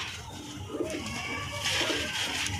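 Soft, low pigeon cooing repeats against a steady background hiss, fairly close, with no voices.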